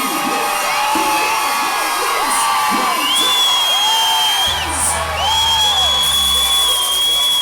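A loud, close MMA event crowd at Co Combat Club 12 cheers and whoops continuously for a fighter's debut entrance, with high whistles and shouts rising over a sustained roar.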